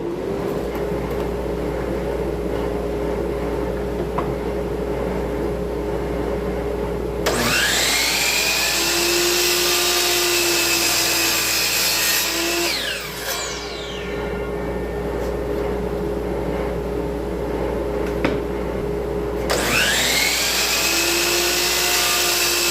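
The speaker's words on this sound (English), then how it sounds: "I'll cut a board here for you and let you see." A Dewalt miter saw with dust collection spins up with a rising whine over a constant vacuum-like hum, cuts a board, winds down, then starts again near the end.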